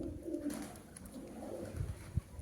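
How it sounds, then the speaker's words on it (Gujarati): A pigeon coos in low, soft repeated calls nearby at a farm well with a running motor, with a few light knocks in the background. "જોઈએ આપણે પાણી કબૂતર છે"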